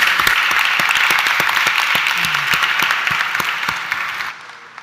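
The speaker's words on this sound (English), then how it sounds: "please join me with a round of applause to all of them" Sustained applause from a conference audience for a panel, a full crowd clapping steadily with some distinct nearby claps, gradually tapering before cutting off.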